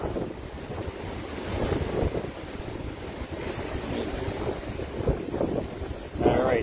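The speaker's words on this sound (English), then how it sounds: "it seems like it's getting windier and windier" Strong wind buffets the microphone on a cruise ship deck in gusty rumbling bursts, with surging water noise beneath, loud and continuous.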